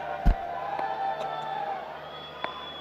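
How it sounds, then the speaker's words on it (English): Fans in a stadium enclosure at an evening T20 cricket match between Central Punjab and Sindh make a distant, steady crowd roar with scattered cheers, punctuated by a sharp thump near the start and a brief click later. "Good energy from the crowd."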